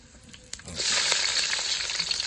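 Onions drop into a hot pan of chicken curry, and after a brief rattle a loud, steady sizzle of frying starts abruptly and keeps going, close to the listener.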